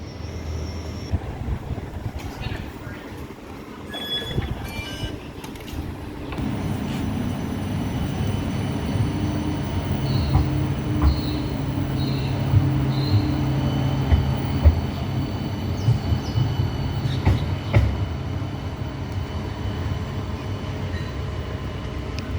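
A tram in service to Newcastle Beach rumbles past, a low steady rolling noise that swells and holds with faint metallic squeals and clicks from the wheels, and no voices.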